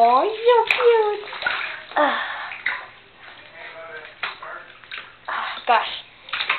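A plush Webkinz toy is stirred and squeezed in bathwater, with sloshing and splashing of water running under a child's and an adult's chatter throughout.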